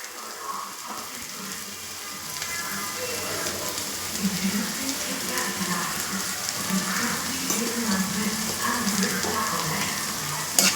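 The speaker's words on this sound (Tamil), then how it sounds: "வெங்காயத்தை போட்டுக்கிட்டு பொன்னிறமாக வதக்கணும்." Sliced onions frying in a pan until golden, a steady soft sizzle and crackle with occasional stirring scrapes, continuing throughout at moderate level.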